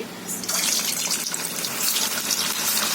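Mutton kofta fry in hot oil in a kadhai, producing a loud, rushing hiss of bubbling oil that holds steady and dense for the full three seconds, close and without talk.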